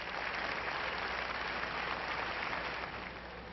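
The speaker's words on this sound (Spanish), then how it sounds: "hubo aplausos" Applause after a minute of silence held by King Felipe VI and President Rajoy in honour of victims, a steady dense wash of clapping filling the whole stretch, fairly distant and even, tapering slightly at the end.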